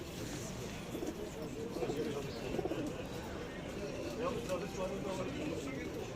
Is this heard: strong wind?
no